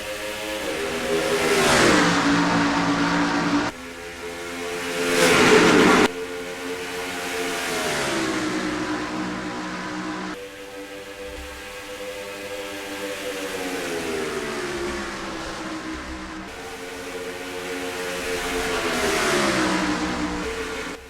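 A pack of NASCAR stock cars roaring off the start at Las Vegas in NASCAR Racing 2003, engines revving up and shifting repeatedly in rising and falling sweeps, loud and close, with no talk over it.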